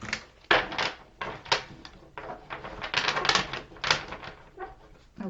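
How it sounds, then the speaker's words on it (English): Tarot cards being shuffled by hand give a quick series of crisp riffling and slapping bursts, close and fairly quiet, with brief pauses between handfuls. "I'm going to be mixing the cards up a little bit today"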